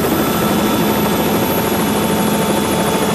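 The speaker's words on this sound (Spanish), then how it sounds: "Se escucha el helicóptero, ya está." A helicopter thunders close by, its dense rotor and engine roar steady and loud from start to finish.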